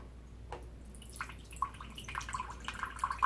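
Filtered water drips from a homemade water filter, a few soft drops at first, then a quicker run of close, bright drips and trickles building toward the end.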